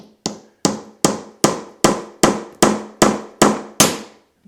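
Hickory nuts cracked one after another with a hard tool, nine or ten sharp, close cracks in a steady even rhythm with no talking.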